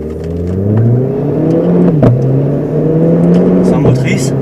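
A Renault Clio RS 18 engine hums and drones steadily from inside the cabin on a test drive while braking, its pitch easing down, with voices talking over the engine.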